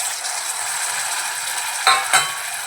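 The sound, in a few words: peas, potato and carrot added to onions in pan, stirred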